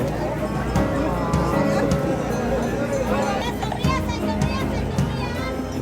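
A crowded street during Semana Santa in Guatemala, thick with children's shouts, crowd babble and chatter close by, a steady busy hubbub with someone speaking over it.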